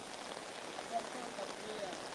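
Rain falls steadily over floodwater in Nong Chik, Pattani, a soft even patter at moderate distance.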